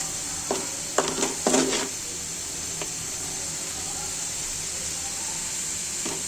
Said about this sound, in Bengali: শাকগুলো একটু ধনে পাতার সাথে যেন মিশে যায় কয়েকবার নাড়াচাড়া করে নিতে হবে